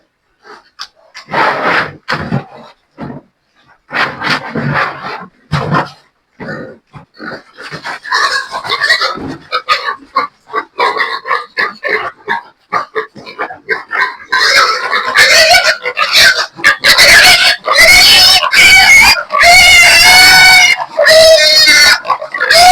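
Pigs on a farm grunt, squeal and scuffle as they fight, with bursts of loud squealing building toward the end; a person speaks intermittently early on.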